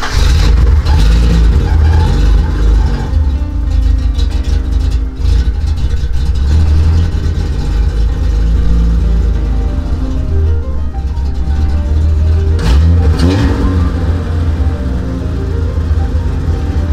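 A BMW E30 engine with a freshly adjusted fuel pressure regulator runs loud and close, with a steady low rumble and repeated revs that rise and fall throughout.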